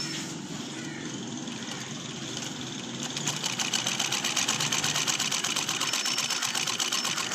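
A Shahzad sewing machine stitches jersey fabric in a steady, close mechanical whir that picks up speed and gets louder partway through, with no talking.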